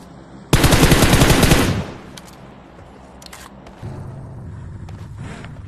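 Loud burst of automatic M4 rifle fire in the mobile battle-royale game PUBG Mobile, a rapid stream of close shots lasting about a second, followed by quieter in-game ambience and faint movement noises.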